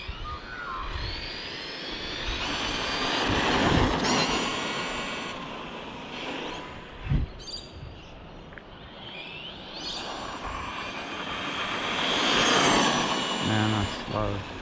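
Tekno ET48 2.0 RC truggy on 4S with a Castle Mamba Monster X motor driving past, a rising and falling electric whine with a brief clatter midway, alongside outdoor wind and a person talking.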